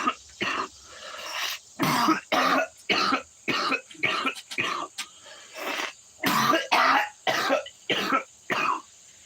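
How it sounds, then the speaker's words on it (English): A man coughs hard in a long, rapid series of harsh, throaty bursts and throat-clearing hacks, about twenty close, loud fits broken by brief gasps, with no speech. "That was a self-inflicted cough for a good reason."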